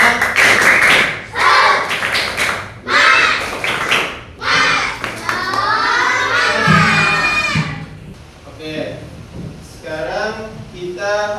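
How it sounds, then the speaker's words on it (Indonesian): Schoolchildren in a classroom do a rhythmic spirit clap before a lesson, loud, close bursts of patterned clapping separated by short pauses, with chanting and voices mixed in. "Sebelum mulai pelajaran kita tepuk semangat dulu ya, biar semangat memulai pelajarannya."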